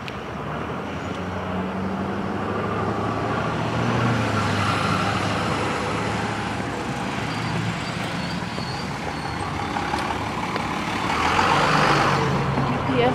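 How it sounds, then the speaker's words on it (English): Cars and trucks pass along a busy road near a gas station, heard while walking: a continuous rumble of traffic that swells as vehicles pass, with no clear talk over it. "with this road, you gotta be careful because there's a lot of drivers driving around here"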